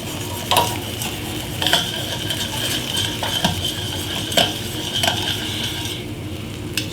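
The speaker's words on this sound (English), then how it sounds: "We're just going to scrape the bottom of this pan." A utensil scrapes across the bottom of a hot pan used for braising short ribs, loosening browned bits, giving repeated scraping strokes and clinks over a steady sizzle, close by with no talk.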